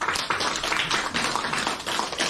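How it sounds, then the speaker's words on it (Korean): Audience applause for a deputy mayor at a public meeting: dense, steady clapping from a crowd, continuous and fairly close, with no talk over it. "우리 조승문 부시장님께 감사의 큰 박수 한번 보내주시기 바랍니다"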